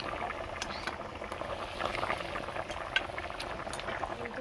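Bengali fish curry broth with shrimp stock and fried rohu pieces bubbles at a steady boil in a pot, a continuous soft gurgling simmer with tiny pops, fairly quiet and alone.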